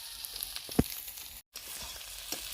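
Potatoes frying in oil in a pan, a soft steady sizzle with a few sharp pops and crackles, quiet and close.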